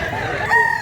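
A white rooster lets out a short, loud crow at a chicken market, the call rising slightly and ending abruptly within a second amid steady background noise.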